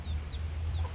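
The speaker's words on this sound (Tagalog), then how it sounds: "manok, it's a big manok." A rooster clucks softly a few times over a low background hum, short and close by.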